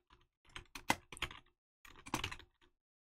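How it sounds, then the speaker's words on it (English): Bursts of keystrokes on a computer keyboard, close and clear, in two uneven runs separated by a short pause, with no voices. "you're just gonna type in whatever you need"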